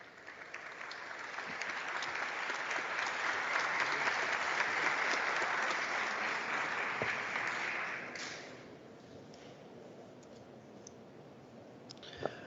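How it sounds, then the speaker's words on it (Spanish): Loud sustained applause from a congressional audience at a formal democratic forum, a dense wash of clapping that swells over several seconds then drops to a lighter, thinner patter. "Arturo Alegría García, y lo recibimos con fuertes aplausos"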